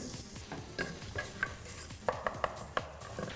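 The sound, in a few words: ginger and onion added to hot oil, stirring and sizzling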